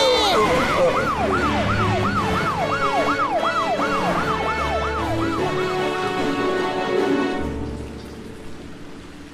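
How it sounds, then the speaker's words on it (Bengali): Police car sirens wailing in a fast rising and falling pattern close by at night, holding loud for several seconds before fading away, with traffic rumble underneath. "এত পুলিশের গাড়ি কোথায় যাচ্ছে বুঝতে পারছি না।"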